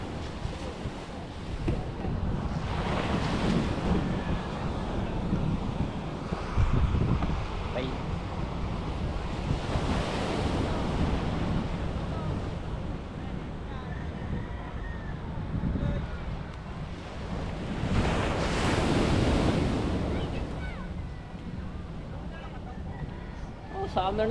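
Steady wind roars across an open seaside spot, with surf-like swells rising and falling; a voice talks intermittently underneath.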